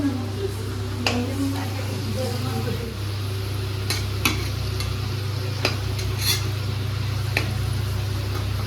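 Potatoes fry in a pan with a constant low sizzle, and occasional sharp taps and scrapes of a utensil sound against the pan.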